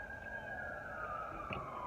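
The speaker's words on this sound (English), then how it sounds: "Got an alarm going, got a siren going, and got Frank on the phone." A siren wails faintly in the background, a steady rising and falling tone running through the whole stretch, with a distant alarm also going and no speech over it.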